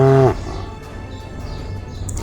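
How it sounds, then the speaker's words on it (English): A cow lets out a loud, deep moo that ends abruptly after a fraction of a second, followed by quieter background noise. "cow,"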